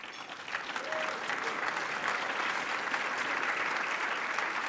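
A crowd applauds at a political panel event on the Ontario premiership, steady broadband clapping filling the room at moderate loudness throughout, with no talk over it.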